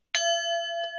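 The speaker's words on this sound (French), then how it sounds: "On va faire le petit gong" A small gong is struck once, giving a bright, clear metallic ring that holds steady for about a second with a faint second shimmer near the end.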